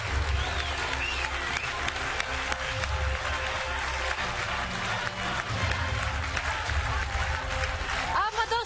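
A quiz show studio audience applauds the day's winner with steady, continuous clapping from a crowd, loud and sustained with a hum of room noise beneath it.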